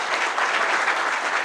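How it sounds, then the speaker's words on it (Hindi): Steady, dense applause from an audience at an event honoring educator Anand Kumar, a continuous wash of clapping with no gaps. "तो एक बार इनके लिए तालियाँ।"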